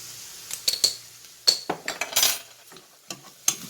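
A spoon scrapes and clinks against a pan while creamy Tuscan shrimp sauce is stirred, in a few sharp separate taps and scrapes with quiet gaps between them and no talk.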